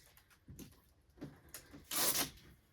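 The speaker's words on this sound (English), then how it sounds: "Let me open this up. We got a bunch of tape, keeping it nice and tight." Packing tape peeled off an XTool S1 laser box, a few short ripping pulls building to a louder, longer tearing strip near the end, close and fairly quiet.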